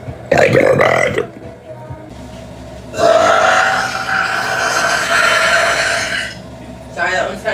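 Close, loud burps from a woman: a short belch at the start, then a long, sustained rumbling burp, and a brief one to finish.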